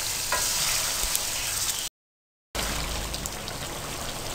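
Beef fries on high heat in a pan, a loud dense crackling sizzle that runs steadily, broken by a brief silent gap before resuming.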